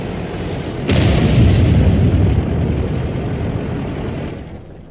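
A single loud artillery shell blast in World of Tanks, a sharp boom followed by a long, heavy rumbling decay that fades slowly over several seconds, with no voices.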